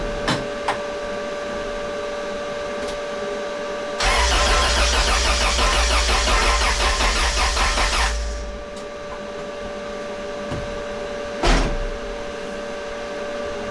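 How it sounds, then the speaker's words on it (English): A 1997 Honda Del Sol with a swapped B18C1 engine and a weak battery is cranked, the starter grinding and the engine turning over for about four seconds without catching, close and loud, followed by a brief click. "You can hear it's turning over."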